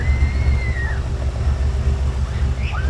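An old Syclone truck engine idles with a steady, rough, stumbling low rumble close by, and a few faint higher tones drift in the background.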